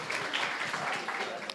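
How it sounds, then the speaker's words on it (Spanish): Audience applause welcoming a guest speaker at a formal talk, a dense steady patter of clapping filling the short stretch at even loudness, with no voice over it. "Lo vamos a recibir con un fuerte aplauso,"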